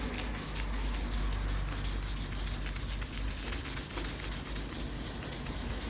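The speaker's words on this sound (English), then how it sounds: "I'm just going to go through and sand it all down" Sandpaper rubs over Bondo filler on a car bonnet in continuous rapid back-and-forth strokes, a close, steady gritty scratching that fills the whole stretch without pause or voices.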